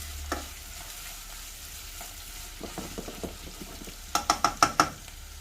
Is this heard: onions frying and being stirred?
yes